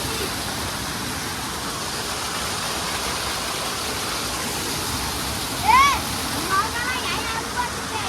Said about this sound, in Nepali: ओ भाइ वाटरफल